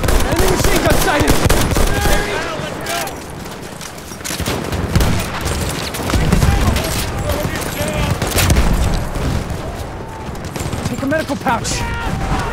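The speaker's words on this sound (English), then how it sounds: "Enemy machine gun sighted!" An enemy machine gun rattles in Battlefield 1, a World War I shooter, with dense bursts of rapid gunfire and distant shots that continue steadily while voices call out.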